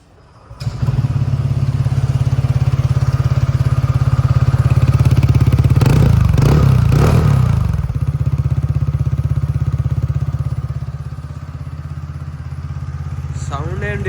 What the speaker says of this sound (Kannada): ಎಕ್ಸಾಸ್ಟ್ ನೋಟ್ ಕೇಳೋಣ ಯಾವ ಥರ ಬರುತ್ತಂತ